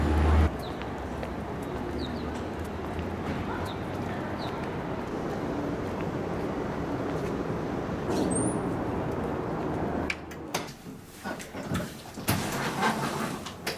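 Birds sing outdoors amid construction, with pigeon-like coos and brief chirps scattered over a steady engine and traffic hum, followed by a few sharper knocks near the end.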